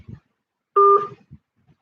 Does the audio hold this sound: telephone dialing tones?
yes